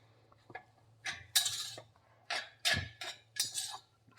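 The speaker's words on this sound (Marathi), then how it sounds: "आणि शेंगदाण्याचं कूट भाजीमध्ये असं एकजीव करून घ्यायचंय" Crushed peanuts being stirred into a cooked amaranth greens curry in a pan, with several bursts of scraping and clinking from a spoon against the vessel, close and clear with no talking.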